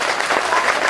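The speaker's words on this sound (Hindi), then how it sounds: "जोरदार तालियां बजाइए।" Dense applause from an audience at a Hindi comic poetry gathering in Faizabad, a steady even wash of clapping that fills the whole moment at close range.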